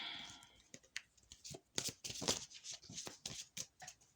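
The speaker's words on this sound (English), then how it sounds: "I'm just going to shuffle about 2 more here, and then I'm going to move on to pile number 2." Oracle card deck shuffled by hand during a pick-a-card reading: close, soft riffling and sliding of cards in irregular bursts, with papery slaps and flutters, no voice over it.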